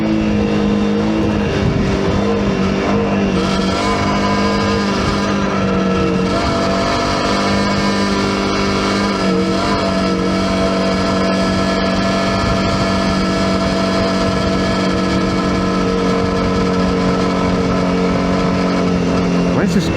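A car engine labours uphill in first gear on the Alpine Loop, a steady drone with a constant hum running through it, while people talk over it.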